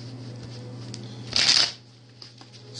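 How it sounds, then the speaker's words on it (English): Deck of tarot cards given a quick riffle shuffle, a single brief crisp flutter of cards over a faint steady background hum. "I'm going to shuffle them."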